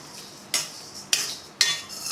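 Dry rice roasting in a pan over a medium flame for a Kerala medicinal ladoo, stirred with a spoon in three distinct scraping sweeps, each a quick rattle of grains against metal, with quiet pauses between and no voices.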